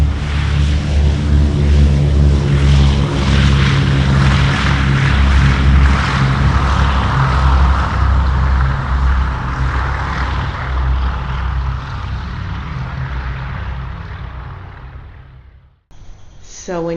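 Boeing B-17 bomber propeller engines drone loud and close in a dense, continuous rumbling roar that slowly fades, then cuts off abruptly before a brief return, with no talking.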